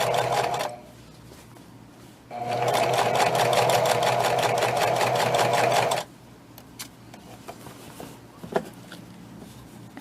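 A sewing machine stitches around a curve on a fabric bag in two loud, steady bursts, running briefly at first, pausing, then running again for several seconds before stopping, with quiet handling noises after.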